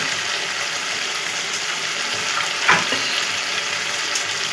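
Spiced potato curry masala for a vegetarian Kashmiri aloo dum with peas fries in oil over raised heat, a steady close sizzle with one brief scrape of stirring midway, no voices.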